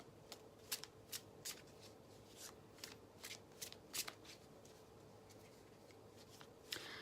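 Tarot cards are shuffled by hand in a series of crisp, riffling bursts at an irregular rhythm, close and fairly quiet over a low background hum.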